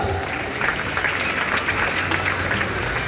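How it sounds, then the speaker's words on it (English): Audience applause at a national health insurance summit, a steady wash of clapping filling the hall for about three seconds at an even level, with faint murmuring beneath. "let's give him another round of applause"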